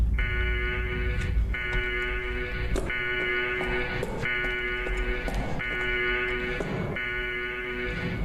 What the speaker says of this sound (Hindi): अलार्म बज रहा है।